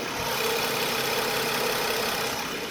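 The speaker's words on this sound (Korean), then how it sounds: "엔진룸 개폐했습니다. 엔진음 들려드릴게요." A BMW SUV built on the 7 Series base idles with its engine bay open, a steady, even mid-pitched hum with no revving, close and constant throughout.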